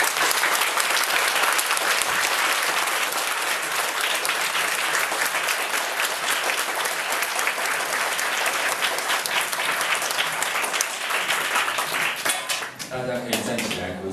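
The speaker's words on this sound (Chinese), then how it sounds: "既然要鼓掌那么久了" A sustained, dense round of applause fills a political rally on citizens' recall rights, many hands clapping steadily at close range for about twelve seconds before thinning out as a voice comes in at the end.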